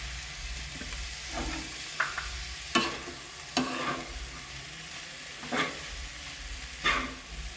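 Poha with black pepper is stirred in a pan over a medium flame. A spatula scrapes and taps the pan at irregular intervals over a soft, faint background sizzle.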